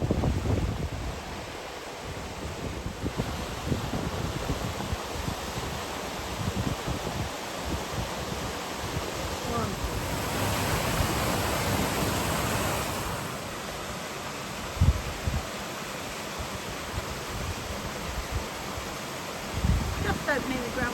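Water rushes through the partly opened ground paddles of the Greenberfield canal locks as a steady, broad roar. It carries on throughout, with wind buffeting the microphone and brief bumps rising above it.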